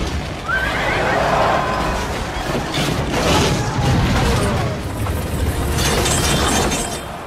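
Horses in an ancient Roman chariot battle: a loud whinny rises over the continuous rumble of hooves, wheels and clashing combat noise, with a dense, close battle din that carries throughout.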